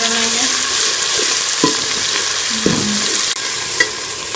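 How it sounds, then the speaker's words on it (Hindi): Ginger garlic paste sizzles with golden onions in a pot for matar pulao, a loud steady fry broken by several scraping stirs of a spoon against the metal. "अब इसमें हम लहसुन अदरक का पेस्ट शामिल कर लेंगे। 1 से 2 मिनट जो है वो फ्राई कर लेंगे।"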